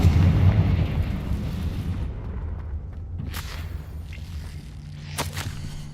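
Spell explosions from Bombarda and Confringo in Hogwarts Legacy: a heavy booming blast at the start that rumbles and decays, followed by sharper cracking bursts.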